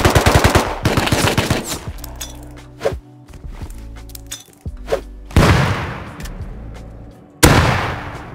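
Rapid bursts of AK rifle fire in a video game, loud and close, with sharp single shots and short volleys spread between quieter gaps.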